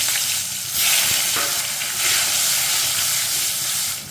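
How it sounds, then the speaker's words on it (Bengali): Potatoes fry in hot mustard oil in a wok, giving a steady broadband sizzle with brief louder surges. The frying noise holds close and constant, and no voices sound over it. "এবার আলুগুলো একটু ভেজে নেব"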